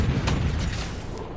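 Revolving cannons firing in the Forts RTS game, a dense, continuous rumble of low booms with a few sharper bursts running through, steady and loud from start to end, no talk.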